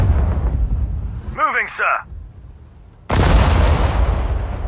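Artillery and gunfire rumble in the Sudden Strike 4 desert war strategy game, with booming blasts up front. A short spoken reply breaks in, then a loud, sustained volley of explosions resumes.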